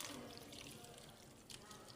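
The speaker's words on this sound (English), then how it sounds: "So we add some water" Water poured over a soil sample in a civil engineering lab, a steady close trickle and splash running for about two seconds with a brief louder gush near the end.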